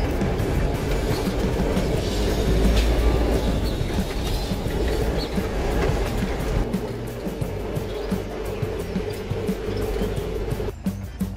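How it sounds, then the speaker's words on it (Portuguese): A freight train rolls past at Aramari, Bahia, its wagons rumbling loudly with rhythmic clickety-clack wheel beats that grow more distinct toward the end. "Aramari, que passa trem, mas hoje é só de cargas"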